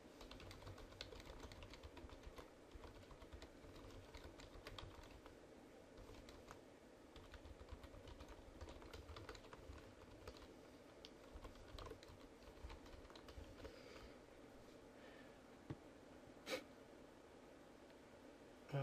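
Fast, light keystroke clicks in uneven bursts on a computer keyboard, faint and close, with occasional breathing and no speech.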